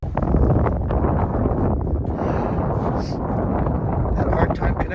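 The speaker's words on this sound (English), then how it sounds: "that wind's really cutting up here" Strong wind roars across a snowy mountain rim in the Limhi Range, buffeting the microphone in a steady, loud rush that barely lets up.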